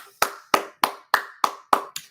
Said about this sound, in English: I gave that a clap